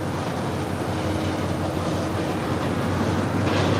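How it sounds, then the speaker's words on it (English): An Airbus airliner taking off from a parallel runway at Los Angeles airport, a loud, continuous broadband engine roar holding steady from a distance, with no voices. "Airbus departing the parallel."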